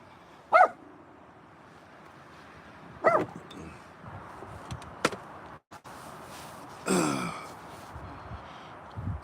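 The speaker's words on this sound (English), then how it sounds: "You don't bark at everybody." A dog barking outdoors in Goldfield, Nevada, a few single loud barks spaced seconds apart, with a gasp-like breath and rustling in between.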